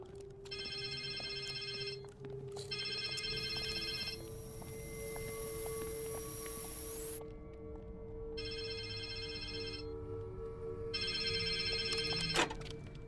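A telephone rings in repeated electronic bursts, with pauses between each ring, over a low steady hum.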